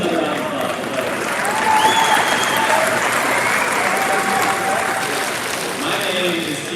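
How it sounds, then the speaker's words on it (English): Graduates, parents and staff at a high school graduation applaud in a broad, steady wash, with cheers and whistles rising over the clapping and voices mixed in throughout. "give yourself another round of applause"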